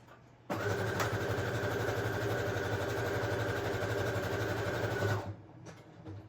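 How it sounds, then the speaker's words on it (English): A sewing machine runs steadily for about five seconds while stitching around the edges of a fabric time card bellyband, a loud close motor whir with a fast even needle rhythm that then stops, leaving faint room noise. "I'm over here sewing, just around the edges."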